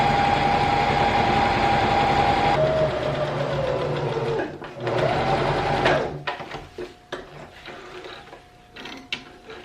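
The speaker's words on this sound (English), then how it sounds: "I'm gonna sew these together now" A sewing machine stitches the side seams of teal pant pieces, a steady close whirring run for a few seconds that then breaks into shorter stop-start bursts with small clicks and handling sounds.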